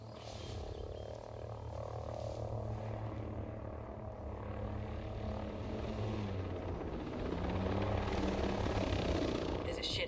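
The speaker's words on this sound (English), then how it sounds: "Spotted an enemy chopper." An enemy helicopter in Ghost Recon Breakpoint drones with a steady rotor and engine rumble that builds slightly louder, heard under faint talk.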